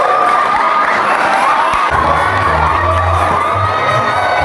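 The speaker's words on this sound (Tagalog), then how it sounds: "Grabe yung hiyawan ng mga tao nanonood kay Daniela guys." Talent show audience cheering, whooping and shouting loudly throughout, a dense crowd roar with children's shrieks and a low rumble from the sound system joining midway.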